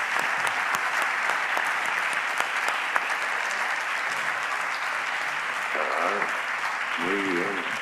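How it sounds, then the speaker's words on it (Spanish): Audience applause during a science talk event in Zaragoza, a steady dense wash of clapping that holds for the whole stretch, with a few voices surfacing near the end. "te mandamos un fuerte aplauso desde Zaragoza"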